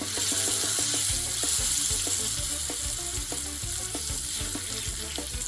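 Blackened salmon fillets fry steadily in a pan as they are flipped to crisp the sides, a loud, continuous sizzle broken by repeated scraping and tapping of a utensil against the pan.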